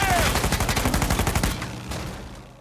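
Rapid bursts of automatic gunfire from a third-person shooter video game, loud and rhythmic for about a second and a half before trailing into a fading echo.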